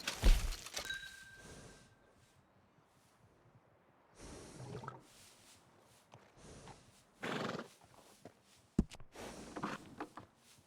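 A horse in the Red Dead Redemption 2 video game whinnies and snorts loudly near the start, followed by quieter shuffles, hoof clip-clops and further snorts and breaths at intervals, with no talk.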